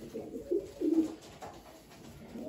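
A pigeon or dove cooing softly in a few low, rounded notes, fairly faint against quiet background noise.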